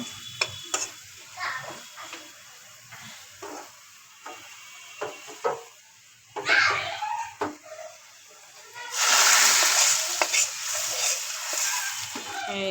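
Lentils (dal) pour into a hot tempering and burst into a loud, sustained sizzle, preceded by scraping and stirring in the pot.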